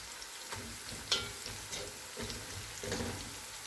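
Green chillies are stirred into light golden-brown frying onions for chicken biryani: a dense, continuous sizzle with scraping stirs and a brief sharp spatter partway through.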